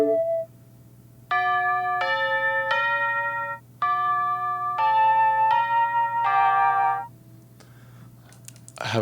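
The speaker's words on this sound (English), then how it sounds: "I want like chimes or something. Maybe bells, chimes or bells." Synthesized mellotron chimes or bells for a dungeon synth track, playing a slow series of sustained, ringing bell-like chords in stepped phrases over a steady low drone, clear and alone without talk.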